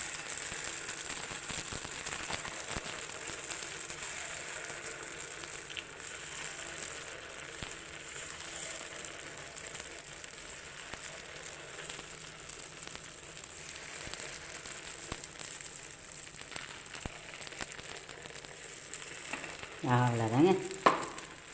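Sweet paniyaram batter sizzling in an oiled paniyaram pan: a steady, close hiss of frying that continues throughout, with a few light clicks and a brief spoken phrase near the end.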